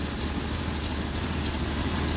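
A Jeep engine idles roughly at low rpm, a steady, uneven chugging rumble that carries on continuously at moderate loudness, with no one talking.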